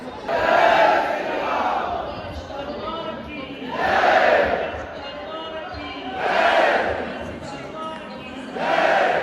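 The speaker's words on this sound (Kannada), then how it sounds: "ದಾರಿಯಲ್ಲಿ ಭಕ್ತರು ಜಪ ಹಾಗೂ ಭಜನೆಯನ್ನು ಮಾಡ್ತಾ" A group of devotees chants bhajans in rising swells roughly every three seconds, a rhythmic devotional call and response over a noisy crowded train background.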